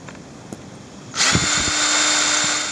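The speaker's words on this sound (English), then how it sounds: "I'm just going to put a hole here for the bolt" A power drill boring a bolt hole through a piece of metal, starting abruptly after a quiet moment and running loud and steady, close by, with no talking.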